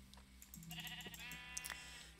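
A sheep bleats in Minecraft, a few short wavering calls heard close and clear over a quiet low hum, with no talking.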